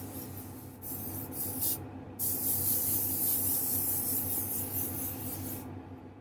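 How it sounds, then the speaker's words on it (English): Metallic paint hissing from a spray can onto a model figure, a steady close hiss with brief pauses between bursts, no talking. "I love this paint too. It sprays on really well."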